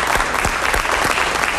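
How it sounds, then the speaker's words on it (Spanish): A studio audience applauds a 66-year-old actor, Andrés García, during a television interview, loud dense clapping with a few sharper claps standing out, heard alone and close. "Un aplauso para Andrés García,"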